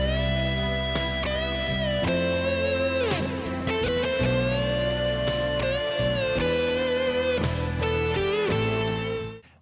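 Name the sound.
electric guitar lead line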